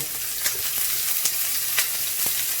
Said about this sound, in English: I'm gonna add some onion, some mushroom, some zucchini, some tomato